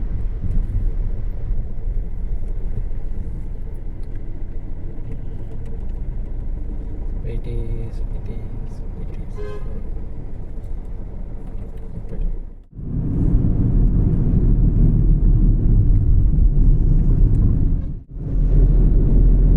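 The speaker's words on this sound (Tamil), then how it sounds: "இப்போ வீடியோவே ஹைவே டிராஃபிக் ஆகும்." Heavy traffic on a high-speed Indian highway, with lorries and other heavy vehicles passing. A loud, continuous engine-and-tyre rumble fills the whole stretch, with two brief dips near the end.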